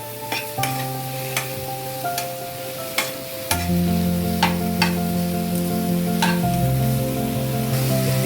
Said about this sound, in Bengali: মাশরুমটা ভালো করে সলতে করে নিয়েছি। এবার দেখো ওর মধ্যে থেকে জলও ছেড়ে দিয়েছে হালকা হালকা, এটা ভালো করে সটে হচ্ছে।